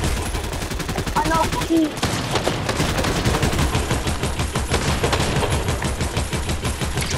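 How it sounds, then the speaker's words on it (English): Rapid bursts of gunfire from a Fortnite match fill the whole stretch, dense and loud, with brief voices talking over the shooting. "Time for blind shooting, Nolan."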